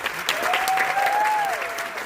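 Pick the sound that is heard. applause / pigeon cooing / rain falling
applause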